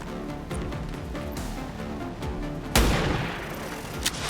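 A single sniper rifle shot in the turn-based tactics game XCOM 2 cracks out sharply and loudly over steady background music, then a rumbling tail trails off.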